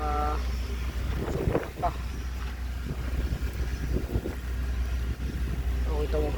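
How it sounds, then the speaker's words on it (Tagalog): Strong wind buffets the microphone in a vegetable garden where onions and lemongrass grow, a low steady rumble with gusty bursts, while a person talks throughout. "lakas ng hangin"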